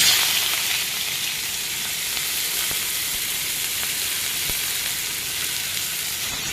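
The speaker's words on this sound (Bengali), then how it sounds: "পেঁয়াজটাকে ভালো করে ভেজে নেব" Chopped onions fry in hot oil left over from browning potatoes for an egg curry. A loud, even sizzle hisses steadily from start to finish, with no voices.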